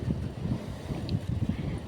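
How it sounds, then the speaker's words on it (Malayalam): Wind gusts across the microphone at a rocky beach in Goa, with low rumbling surf from the waves underneath, steady and fairly faint, with no talk. "ഇവിടെ നല്ല പിന്നെയും തിരമാല വരണേൻ്റെ അവിടെ ഒരു കാറ്റുണ്ട്."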